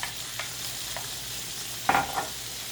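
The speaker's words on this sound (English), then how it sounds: "we're going to mix that all up with the sausage" Vegetables and chicken sausage are stirred together in a frying pan, with a few scraping strokes, one louder near the end, over a low steady sizzle.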